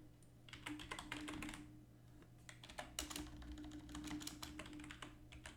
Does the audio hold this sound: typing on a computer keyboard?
yes